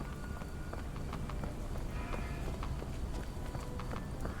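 Horse hooves clip-clop at a steady trot through continuous rain-like background noise in Sherlock Holmes: The Awakened, the evenly spaced strikes moderately loud and close with no talk.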